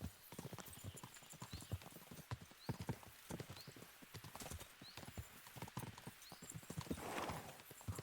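Horses gallop in the medieval video game Kingdom Come Deliverance 2, with rapid, rhythmic hoofbeats drumming steadily and fairly softly, and an occasional whinny rising near the end.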